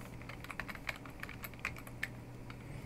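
Computer keyboard keys tapped in an irregular run of light clicks while a student ID and password are entered, close and fairly quiet over a low steady hum, with no talking.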